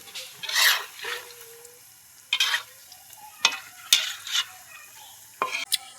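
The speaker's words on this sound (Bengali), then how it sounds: "আবারও আমার এক পিঠ ভাজা হয়ে গেছে। আমি উল্টি দিলাম।" Bottle gourd fritters frying in a pan while being stirred and flipped, with soft sizzling under a string of sharp scraping and clinking spatula strokes.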